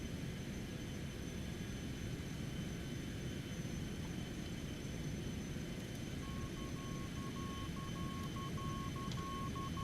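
Cessna Citation X jet in flight through rough weather, a steady cabin-level engine roar and rushing air, constant and moderately faint, with a brief intermittent tone near the end and no talking.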